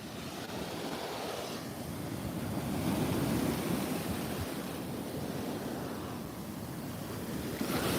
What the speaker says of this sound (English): That last wave was huge.